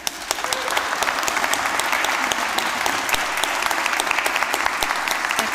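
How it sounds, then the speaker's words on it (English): Sustained audience applause fills a graduation ceremony hall at City College Dublin, a dense, even patter of many hands clapping at a steady volume throughout, with no talk over it. "and a round of applause, everybody."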